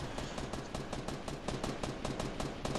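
Rapid automatic gunfire from the Fortnite video game, with dense repeated shots rattling steadily and loudly for the whole stretch and no talk over it.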